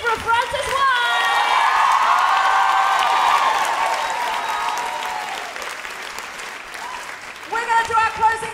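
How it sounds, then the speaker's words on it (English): A live podcast audience gives a big round of applause with cheering, thick clapping from a large crowd building and then tapering off as a voice returns near the end. "Massive round of applause for Deborah Frances-White."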